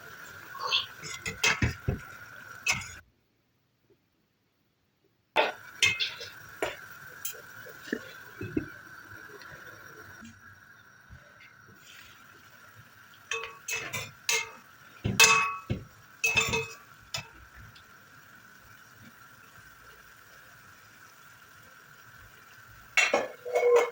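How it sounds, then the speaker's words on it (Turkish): Meat and beans stirred in a cooking pot with hot water added, bringing scattered metallic clinks and scraping taps of a spoon against the pot, irregular and close, with a brief silent gap early on. "Şöyle güzelce karıştıralım."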